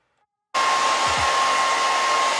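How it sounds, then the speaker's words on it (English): A blow dryer switches on abruptly and runs steadily at close range, a loud continuous whooshing hum with no voices, heard while styling the hair of a lace front wig install. "Pull out your blow dryer."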